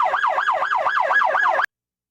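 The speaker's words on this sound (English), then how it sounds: "Someone left their siren on, and that's annoying." A police car siren left running in a video game wails in a fast, regular up-and-down yelp, loud and close, repeating about eight cycles before cutting off abruptly.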